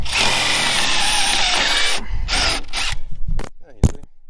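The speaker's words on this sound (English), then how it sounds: "I'm going to use a drill" Power drill whirring steadily as it bores out a rubber leaf spring bushing on a Peterbilt 379 truck, loud and close for two seconds, then stopping and restarting in shorter bursts with clicks and clatter near the end.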